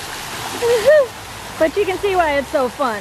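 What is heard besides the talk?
roadside waterfall, Scott Falls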